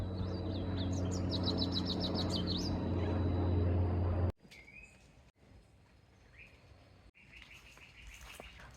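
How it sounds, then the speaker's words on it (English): Morning birdsong in Central America: a loud chorus of chirps and trills over a steady insect drone, then after a sudden cut quieter, more distant calls with scattered whistles against soft ambient hiss. "this is all the birds that I heard this morning."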